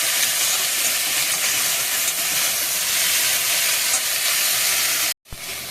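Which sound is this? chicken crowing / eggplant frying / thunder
eggplant frying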